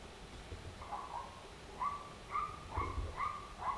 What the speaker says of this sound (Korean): 걔가 왜 이렇게 짖어 갑자기?